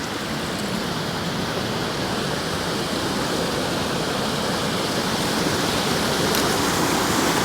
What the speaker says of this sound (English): this is the waterfall that I wanted to photograph